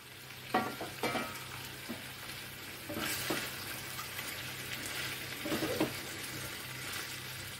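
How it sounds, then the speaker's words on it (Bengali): Chicken fries with capsicum and onion in a pan for a street-style chicken roll, giving a steady sizzle broken by a few scraping stirs near the start and again midway, with no voices. "ক্যাপসিকাম আর পেঁয়াজ দিয়ে চিকেনটাকে আমি ভালো করে ভেজে নিয়েছি।"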